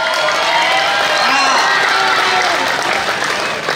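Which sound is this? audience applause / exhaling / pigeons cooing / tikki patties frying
audience applause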